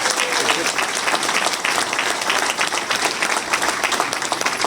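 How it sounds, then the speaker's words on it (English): Loud, vigorous applause and clapping from an audience welcoming a doctor at a community event, dense and sustained, with crowd voices mixed into the ovation. "Give Dr. Roger Mitchell a big round of applause."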